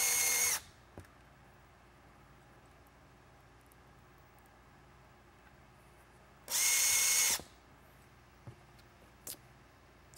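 A power drill drives screws into a Whelen M6 Linear Super-LED light head in two loud bursts, one at the start and a longer one near the middle, with small clicks in the quiet stretches between.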